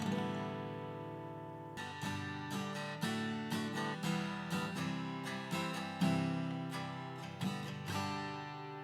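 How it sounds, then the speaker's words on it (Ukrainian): Guitar strings strummed and picked in a steady rhythm, chords ringing clearly and in tune, close and moderately quiet with no voices. "Бо налаштована гітара звучить ось так."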